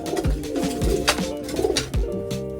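Domestic pigeons, doves and migrant pigeons in a loft coo repeatedly in low, throaty rolling phrases, layered and close, with several birds overlapping and no speech.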